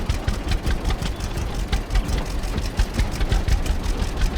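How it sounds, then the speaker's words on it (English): Tractor engine idling in the farming game Farmers Dynasty, a steady rhythmic diesel chug with fast regular pulses, close and continuous, no voices. "stop it here, just park this tractor away"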